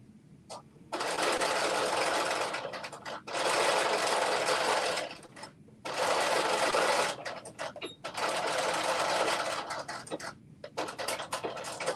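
A sewing machine stitching fabric for a New Look 6667 pattern runs in four long, steady bursts of fast whirring, with short pauses in between. It sounds close and loud, with no talking.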